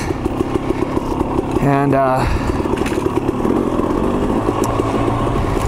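A KTM 300 XC-W two-stroke dirt bike runs close by on a downhill trail, its engine rising and falling as the clutch is feathered, with a brief rev in the middle and the rider speaking over it.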